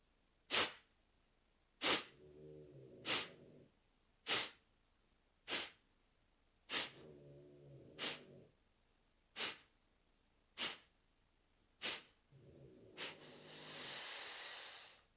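Deep inhale-exhale breathwork leading into Bhastrika: a steady series of about eleven sharp, forceful nasal breaths, evenly spaced and close, with a few soft voiced sounds between and a long hissing exhale at the end.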